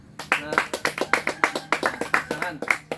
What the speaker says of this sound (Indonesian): tepuk tangan lagi untuk kita semua ya